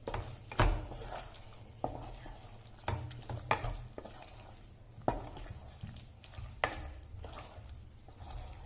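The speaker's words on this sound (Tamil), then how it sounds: "இப்போ இந்த ஸ்டேஜில் மீல் மேக்கர் இதில் ஆட் பண்ணிடலாம். நல்லா பரட்டி விட்டுக்கலாம்." Meal maker soy chunks being stirred into biryani with yogurt in a pot, with intermittent scraping and clacking strokes of a spoon at an irregular pace over a soft background hiss, fairly quiet and close.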